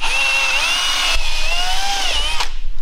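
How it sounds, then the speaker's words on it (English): A power drill whines steadily and loudly as it bores out the belt molding on a 1969 Dodge Charger, the pitch wavering under load before cutting off abruptly near the end. "We're gonna drill out belt molding number 2."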